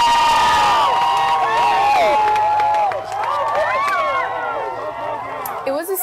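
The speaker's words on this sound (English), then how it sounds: "Everyone was cheering" Excited crowd cheering at the final launch of space shuttle Atlantis, a dense wash of shouts, whoops and overlapping voices, loud and close, easing slightly partway through before rising again.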